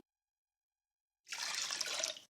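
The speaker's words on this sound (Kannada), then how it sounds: "ನಾನು ಇದಕ್ಕೆ ಮೂರು ಕಪ್ನಷ್ಟು ನೀರು ಹಾಕ್ತಾ ಇದ್ದೀನಿ" Water pours in a steady splashing stream into a pot of barley for about a second, close and alone, then stops abruptly.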